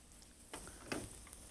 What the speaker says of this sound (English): This is called shallow browning because you're not deep frying it.